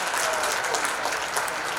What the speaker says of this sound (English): Can we make the dignitaries on stage really happy with a round of applause